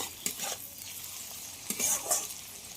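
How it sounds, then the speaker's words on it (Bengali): Chopped tomato frying in a pan for a lentil and chicken dish, a soft steady sizzle broken by a few scraping stirs of the spatula, fairly quiet and close with no talking. "টমেটোটা ততক্ষণ ভাজতে হবে যতক্ষণ না গলে"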